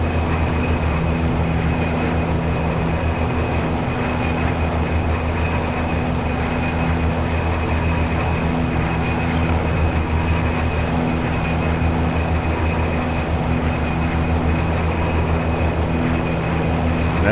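Steady, loud drone of an OV-10A Bronco's engines in level flight in the DCS combat flight simulator, a constant unbroken hum with no talking.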